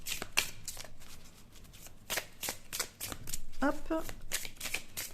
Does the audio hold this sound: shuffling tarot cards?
yes